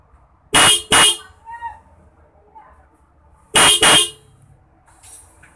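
A Denso dual-disc car horn honks twice in quick double blasts, then again twice after a pause, loud and close, with faint background noise between.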